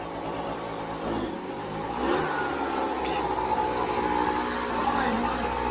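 A 70cc moped engine idling high, a steady mid-pitched hum running throughout at close range, with someone speaking over it.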